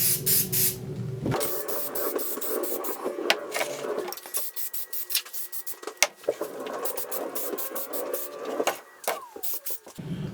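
A can of metal primer sprays onto a tealight holder in repeated hissing bursts of varying length, separated by brief pauses and light handling clicks, close and fairly loud.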